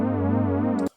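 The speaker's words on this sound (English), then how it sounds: "when I turn up the mod wheel, it sounds like this" An Arturia synthesizer note, with the mod wheel raised to add a gentle vibrato, holds close and steady before cutting off abruptly near the end, followed by a brief faint noise.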